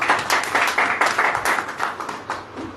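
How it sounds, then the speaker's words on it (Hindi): A church congregation claps hands together in a steady, rhythmic patter that is fairly loud and sustained, then thins out toward the end. "ताली आली तो बजाया करिए।"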